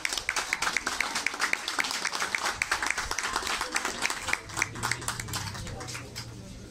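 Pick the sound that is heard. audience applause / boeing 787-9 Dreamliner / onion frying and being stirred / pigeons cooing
audience applause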